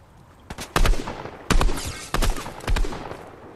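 Video game gunfire in bursts: a few sharp, loud volleys of rapid shots, spaced apart, with short quiet gaps between them.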